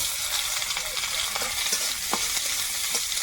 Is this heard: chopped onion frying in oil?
yes